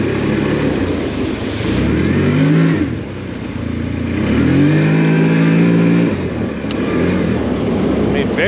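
A 2025 CFMOTO Cforce 800 Touring ATV engine revs up twice in rising surges close by, dropping back between pulls, with a rider speaking over it in places.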